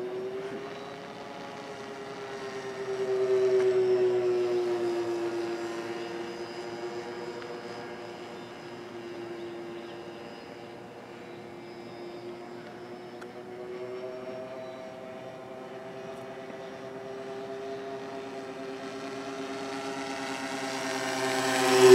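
An FT SeaDuck RC plane flies overhead, its high-pitched propellers droning steadily with a rising and falling pitch as it passes nearer and farther, growing loudest at the end.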